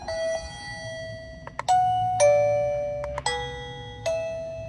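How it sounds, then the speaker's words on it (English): A Secrui wireless door chime plays the Pompey chimes tune, a sequence of clear, ringing bell tones struck one after another, each decaying slowly, close and loud in a quiet room. "Well, that's the Pompey chimes."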